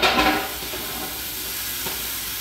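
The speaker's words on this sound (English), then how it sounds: "Wow, they're already sizzling." Frozen fries sizzle and hiss softly in an air fryer basket, a steady close frying crackle after a brief louder rustle at the start.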